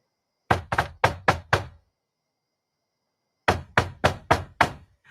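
Knocking on a door in two bursts of five sharp, evenly spaced raps each, separated by a few seconds of silence; close and loud with no talking.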